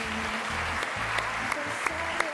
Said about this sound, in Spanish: Un aplauso para Mariña, por favor.